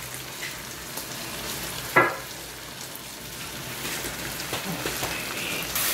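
A second batch of prawns fries in hot oil, a steady close sizzle and crackle throughout, with a sharp clink of a utensil partway through and no talking.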